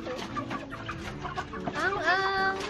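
A rooster clucks repeatedly at close range, a series of throaty calls rising into a louder, drawn-out squawk near the end.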